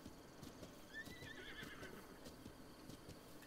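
Horse neighing in the video game Zelda: Breath of the Wild, a wild horse giving a clear whinny over a steady background of hoof and ambient game noise, with no talking.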